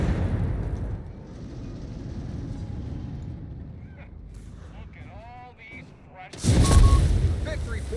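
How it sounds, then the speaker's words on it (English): Late-fuse artillery barrages in Company of Heroes 3 rumble as a sustained low battlefield roar, breaking into a loud, close blast near the end, with a commentator talking throughout. "With late fuse barrages there."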